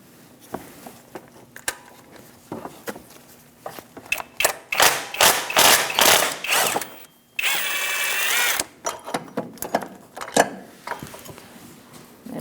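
A power tool with an E14 socket removes the serpentine belt tensioner bolt on a 2012-2020 Chevrolet Sonic 1.8L L4, in loud close bursts of rapid ratcheting whir separated by short pauses, with a sustained high whine near the middle.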